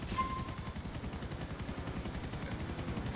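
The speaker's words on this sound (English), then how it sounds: "This guy's modded helicopter." Modded helicopter in GTA 4, a steady rapid rotor chop with a low engine drone, sustained and fairly close throughout, with no talk.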